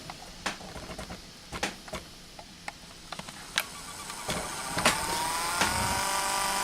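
A BW gas meter bump-test station starts up on its own, giving scattered clicks and ticks, then a rising whine and steady hum from its motor or pump toward the end, with no talking.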